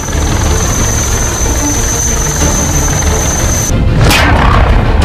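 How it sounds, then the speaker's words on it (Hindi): Rescue helicopter, an Indian Air Force Dhruv or MI-17 V5, over flooded Shivpuri in Madhya Pradesh: a loud, steady rotor and engine roar with a constant high whine that drops away near the end, followed by a sharp thump, with no talk. "एमपी के शिवपुरी में हेलीकॉप्टर से रेस्क्यू किया जा रहा है।"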